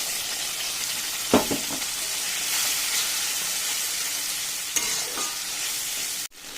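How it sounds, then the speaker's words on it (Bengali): Steady loud sizzling as ginger, garlic, cumin and chilli paste fries with onions in a pan, broken by a few sharp stirring scrapes before cutting off near the end. "দিচ্ছি আদা, রসুন, জিরে আর কাঁচা শুকনো লঙ্কা একসঙ্গে পেস্ট করা মশলাটা"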